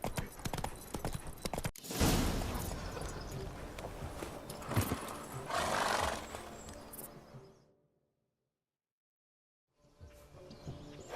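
Rhythmic clip-clop of horse hooves close by in The Witcher 3, with rustling and ambient noise, then a sudden drop to silence before sound resumes briefly.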